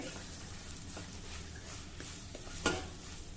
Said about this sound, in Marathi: आता सर्व मसाल्यांबरोबर अगदी थोड्या वेळासाठी आपल्याला हे परतायचं आहे कारण मसाले कोरडे आहे पटकन करपतात